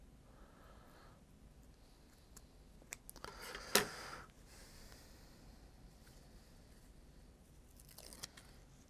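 Cutting the back of a felt or plastic arrow rest on a recurve bow during installation: a single sharp snip near the middle, with a few faint clicks and rustles around it, close and fairly quiet, no talk.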